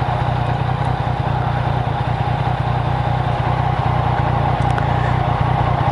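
Scooter engine running steadily at night while riding, a constant close mid-pitched motor drone with light clatter and no talk.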